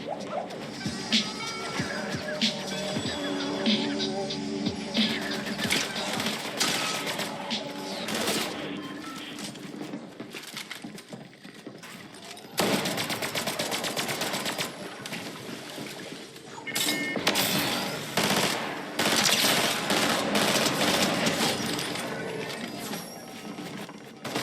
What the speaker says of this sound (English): enjoy this gameplay with the Thunderburst SMG, showcasing how cracked it is